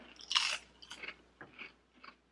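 Crunchy bites into a ranch-flavored keto snack chip, with a loud first crunch and then several softer, close chewing crunches spaced through the rest of the moment.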